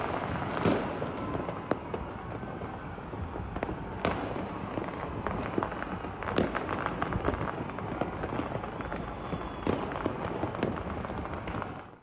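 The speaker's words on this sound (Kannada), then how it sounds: "ಪ್ರತಿ ಏರಿಯಾದಲ್ಲೂ ಕೂಡ ಪಟಾಕಿಗಳನ್ನು ಸಿಡಿಸಿ ಸಂಭ್ರಮಿಸಲಾಯಿತು" Fireworks and firecrackers burst across Bengaluru neighbourhoods in street celebrations of RCB's IPL 2025 title win: dense continuous crackling punctuated by repeated sharp bangs, some near and some distant, with no talk.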